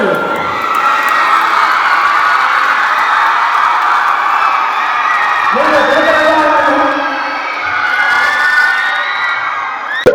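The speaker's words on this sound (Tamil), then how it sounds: "மாணவர்களே, உங்களுடைய கரகோஷத்திலே" A crowd of students cheers and claps loudly and continuously in a large space, with shouts and whoops rising over sustained applause.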